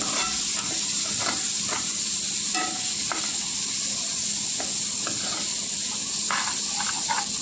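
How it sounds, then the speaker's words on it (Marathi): Green chillies and tomato are sautéed in a pan for dhaba-style paneer bhurji, giving a constant close sizzle with scattered light clicks and spatula scrapes throughout. "याला आणखी मिनिटभर परतून घ्यायचं"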